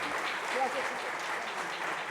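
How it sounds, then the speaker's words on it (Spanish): An audience applauds a quartet after a Bolivian music performance, producing a dense, steady wash of clapping at moderate distance with a voice faintly under it. "Un gran aplauso para el cuarteto."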